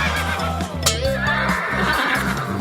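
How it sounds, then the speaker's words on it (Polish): A horse on a farm lets out a loud, close whinny with a rising then wavering pitch, heard clearly over faint background sound. "Koń!"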